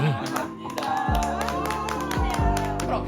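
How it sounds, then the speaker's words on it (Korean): A four-year-old claps small hands at a home birthday party during cake play, a few soft, quick claps up close, mixed with music and a voice. "조그만 손바닥으로 박수 치는 게 왜 이리 귀엽니?"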